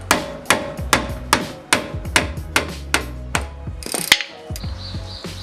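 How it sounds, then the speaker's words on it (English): A rubber mallet striking a brake caliper bolt on a 9th-generation Honda Civic Si front brake in a garage, about ten evenly spaced loud, close knocks with a metallic ring, then a clank and scrape as the bolt breaks loose. "just use a rubber mallet and freaking convince that thing"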